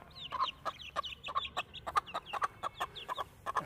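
A frightened hen clucks repeatedly with her chicks nearby in a rapid, uneven string of short, fairly soft clucks, with no talking.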